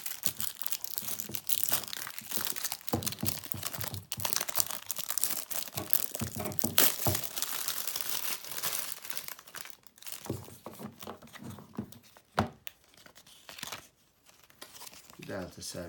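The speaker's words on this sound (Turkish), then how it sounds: "Şimdi öncesinde kutunun içerisini bir açalım bakalım neler varmış" A Samsung Galaxy J7 Prime 2 phone box is opened up close, with seal tape tearing and packaging crinkling and crunching in bursts while someone talks.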